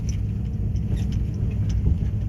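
Low, steady rumble of a gasoline-powered truck engine idling in the snow while moving round bales, close and continuous with no talking.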